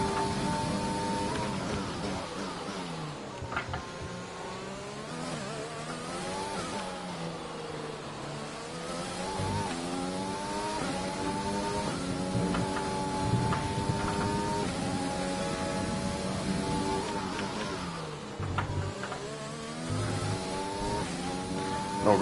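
Audi Formula 1 race car engine in an F1 video game, a high-pitched whining scream rising and falling through repeated gear changes and revs, steady and continuous with no talk.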